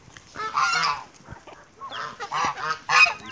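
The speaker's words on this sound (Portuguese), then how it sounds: "Esse ganso aí não pode pegar alguém que ele está querendo atacar." A goose honks loudly and repeatedly in a barnyard where roosters are kept, its harsh calls coming in irregular bursts close to the microphone.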